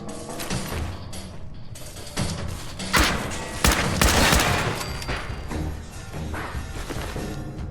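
Gunfire during combat in the video game Fallout 4: dense, loud bursts of shots rattle almost continuously, with heavier crashing blasts in the middle and a busy mix of other game sounds behind.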